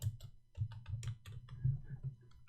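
Keys tapped on a computer keyboard while entering a day name into a spreadsheet, a quick close run of irregular clicks with short pauses, no talking.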